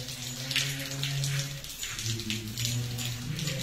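Steady rain pours at Wat Nong Yao, a Thai temple, during a live broadcast: a continuous wash of drops with a low tonal drone running underneath, fairly even in loudness throughout.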